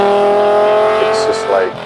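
A BMW S85 V10 swapped into an E46 M3 holds a smooth, high, sustained engine note that climbs steadily, then briefly dips and rises again near the end.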